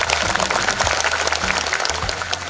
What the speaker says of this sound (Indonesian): Boleh tepuk tangan buat Pak Ganjar.